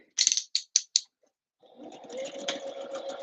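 Close-up, a sewing machine stitching a Christmas dress first makes four quick ratcheting clicks, then, after a pause, a steady whirring run with mechanical gear noise.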